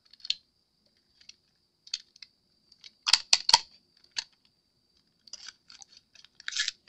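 Packing tape is snipped and handled near a silicone mold, giving sparse, quiet clicks and crinkles followed by a tighter cluster of sharp cutting snaps and rustles.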